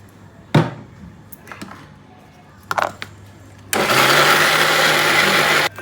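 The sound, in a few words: mixer grinding idli dosa batter finely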